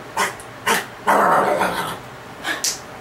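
A dog barks in several sharp, loud yaps spread across a few seconds, with a longer, rougher burst in the middle, heard close by indoors.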